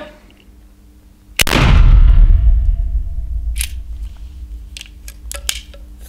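A single loud, sharp report from a Funtir Gomm-Cogne less-lethal gun fired outdoors, followed by a decaying boom and a few small clicks and handling noises afterward.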